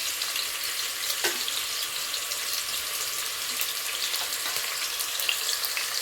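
Sliced onions frying in a pan until golden for chicken biryani made with basmati rice: a continuous close sizzle with occasional stirring scrapes and a soft knock, no voices.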